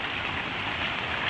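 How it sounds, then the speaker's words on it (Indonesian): Heavy rain pours steadily at an outdoor night market expo with merchant tents during a storm, a dense, continuous close hiss of downpour with no voices. "hujannya semakin deras guys"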